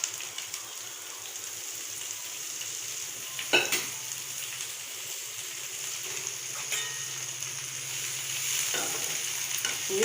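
Onions sauté in a pan for cabbage chutney, giving a steady, continuous sizzle with a faint utensil clink or two along the way.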